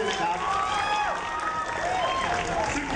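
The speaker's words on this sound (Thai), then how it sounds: "ปรบมือให้กับศิลปินรับเชิญของเราด้วยนะครับ" Applause from an audience at a stage event for a guest artist, steady clapping and crowd noise under someone speaking through a loudspeaker.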